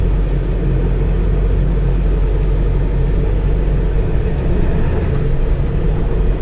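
A 1999 Ford F250 Super Duty with a 7.3L turbo diesel 4x4 idles, its low rumble steady and close, no voices over it.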